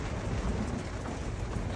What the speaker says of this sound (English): Pretty awesome storm.